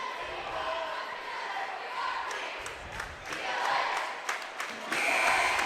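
A home crowd at a Placer Hillmen versus American Canyon high school basketball game cheers and roars in a sustained, swelling wash of noise. A commentator's voice talks over it throughout.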